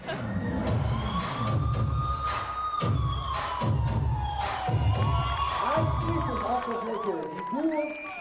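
Audience at a German hip-hop dance championship cheering loudly, with whoops, shouts and children's high voices blending into a steady roar.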